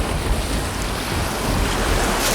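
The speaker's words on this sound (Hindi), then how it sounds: "समुद्र की लहरें उछलने लगी।" Ocean waves surge and roar in a dense, continuous wash of broadband noise, loud and close throughout with no voices.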